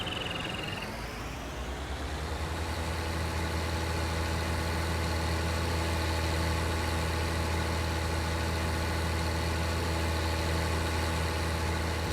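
A tractor engine idles in Farming Simulator 19 on a Pacific Northwest farm map, with a steady, loud low rumble and constant vibration after a brief starting whine.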